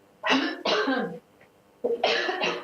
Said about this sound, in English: hold on just a second. I have to cough it.